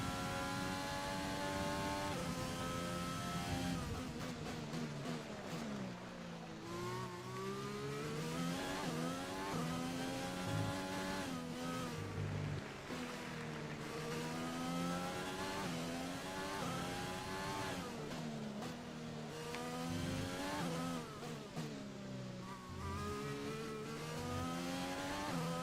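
A Formula 1 racing car engine in the F1 2020 video game revs continuously and loudly, pitch climbing and dropping repeatedly through gear changes over a long stretch, with no talk.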